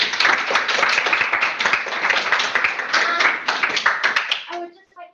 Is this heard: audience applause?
yes